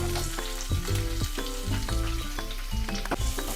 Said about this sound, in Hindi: हल्का गुलाबी होने तक हम प्याज को भूनेंगे।